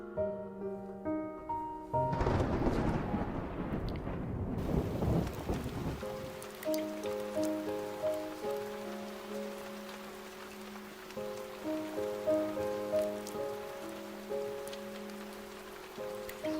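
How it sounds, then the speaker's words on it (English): A storm in the video game Love and Deepspace: a heavy roll of thunder and torrential rain burst in, then steady rain continues beneath soft, gloomy music tones. "Sure enough, torrential rain falls outside and the entire world instantly turns dark and gloomy."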